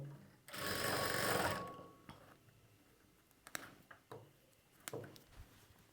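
Sewing machine stitching a pocket on a churidar bottom, one short burst of close whirring stitching lasting about a second, followed by scattered quiet clicks and handling taps.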